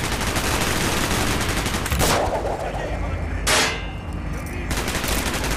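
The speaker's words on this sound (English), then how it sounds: "Gunfire's drawing attention." Rapid automatic gunfire rattles continuously in the Call of Duty Black Ops video game, broken by a couple of louder single shots or blasts, close and dense with no talk.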